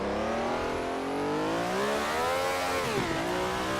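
An Eagle T1G race car at Spa in the racing game GPL drops three gears for a hairpin, the engine note swooping down in loud stepped pitch falls with a brief blip near the end, no talk.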